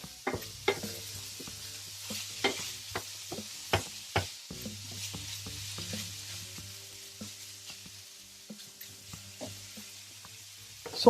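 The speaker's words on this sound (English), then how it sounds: "you know, the sound of frying sound." Steady sizzling of tofu frying in a pan, punctuated by sharp scraping and knocking clicks from stirring, with no talking.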